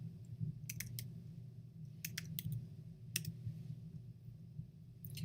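Computer keyboard typing on a Mac, a few quick, faint clusters of key clicks over a low room hum.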